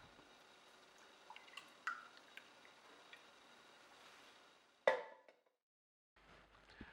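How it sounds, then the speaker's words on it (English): Pineapple juice trickles and drips steadily from an Omega Sana EUJ808 juicer with scattered soft ticks, ending in a sharper splash before a brief silence and faint background hum. "pour a nice glass of pineapple juice here."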